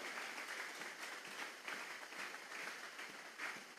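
A church congregation applauding, a continuous, fairly faint wash of many hands clapping throughout, heard from some distance with no talking.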